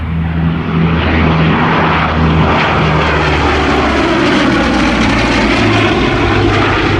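Aircraft at an airshow, a loud continuous propeller engine drone with a throbbing low hum and a broad roar that swells and shifts as it passes, close and filling the scene, no voices.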